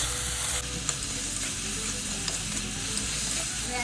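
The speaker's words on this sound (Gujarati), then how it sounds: "બધું ધીમા તાપે આપણે સાંતળી લઈશું." Mixed vegetables sautéing over a low flame for a semolina burger, a continuous close sizzle with light stirring scrapes and taps scattered through it, with no voices.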